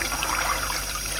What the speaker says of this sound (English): we can put them in a saucepan full of water